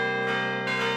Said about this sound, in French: on a quand même décidé de se mettre à venir carillonner ce jour-là